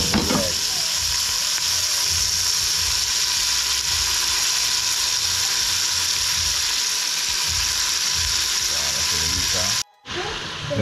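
Onion hitting a hot frying pan where chicken has already been fried, giving a loud, steady sizzle and crackle that runs unbroken until a brief cut near the end.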